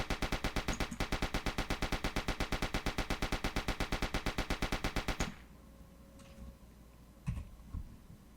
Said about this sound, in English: even though I'm shooting hundreds of bullets